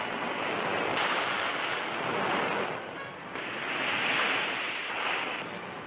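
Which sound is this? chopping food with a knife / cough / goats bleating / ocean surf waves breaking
ocean surf waves breaking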